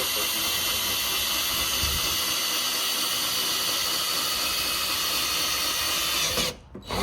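A power drill bores holes into a Dodge Hellcat's car body for a wicker bill install, a steady loud whirring hiss that runs almost nonstop before cutting off near the end.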